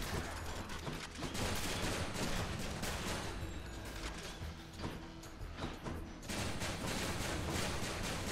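Rapid gunfire from a weapon in the action roguelike Hades, dense bursts of shots with game effects running loud and continuous, briefly thinning before resuming.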